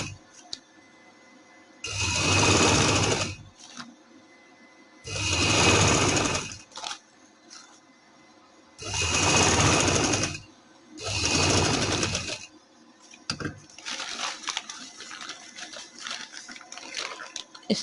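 A sewing machine stitches a trouser cuff design in four loud, steady whirring bursts of rapid stitching, each a second or two long and separated by short quiet pauses, ending with faint handling noise.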